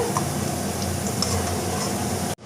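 Onions sautéing to golden brown in a pan for a marinated chicken semi-gravy, a dense, constant close sizzle that cuts off abruptly at the end.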